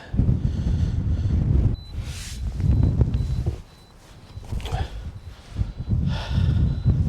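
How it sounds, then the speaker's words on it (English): Heavy wind buffets the microphone in loud rumbling gusts on an open hilltop at Beacon Hill Country Park, dropping away briefly and then returning, with no clear talking. "it's way too windy"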